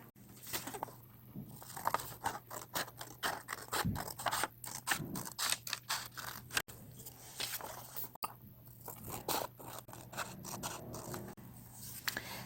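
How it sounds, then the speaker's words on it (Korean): Scissors cutting through square origami paper, a close run of crisp snips and paper rustles with short pauses between cuts. "펴서 이 선과 이쪽 선을 가위로 잘라줍니다."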